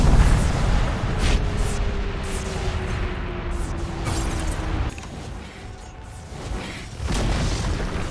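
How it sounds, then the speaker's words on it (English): Tower in Dota 2 being destroyed, with heavy booming blasts and whooshing impacts layered over dense game noise, a low falling rumble sweeping through, then scattered sharp hits as the destruction settles. "Dire's middle tower has fallen"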